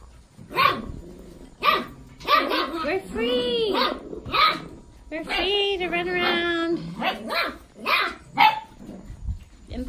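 Several puppies yap and bark in quick, high-pitched bursts close by on a porch, with a person talking over and between the barks.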